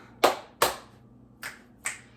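Four crisp finger snaps in an uneven rhythm, close and fairly quiet, with no talking.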